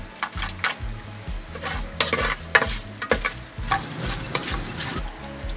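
Cashews frying in hot ghee for ghee rice, with whole spices in the pan, crackle and sizzle steadily while a spoon stirs and scrapes the pan in repeated strokes, close up and fairly loud, with no talking.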